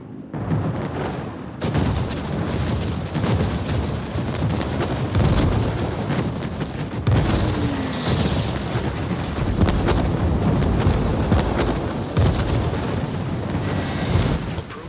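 Warships trade artillery fire in the World of Warships video game, a loud and dense wall of booming blasts and rumble that continues without a break.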